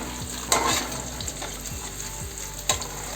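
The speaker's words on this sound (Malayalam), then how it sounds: "ഒരു എട്ട് പറ്റൽ മുളക് നമുക്ക് ഇട്ട് കൊടുക്കാം" Dried red chillies fry in hot oil for a rambutan pickle, a close, even sizzle with faint spluttering pops and a couple of brief stirring scrapes, no talking.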